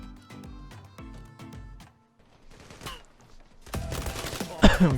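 Gunfire in the online shooter Zula comes as quick bursts of sharp shots, first in a rapid string and then louder cracks near the end, with no talk over it.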